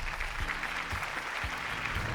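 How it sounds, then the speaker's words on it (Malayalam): A studio audience on a televised game show claps for the winning team, a steady close burst of applause with a few sharper claps standing out. "അവർക്ക് നല്ലൊരു കൈയടി."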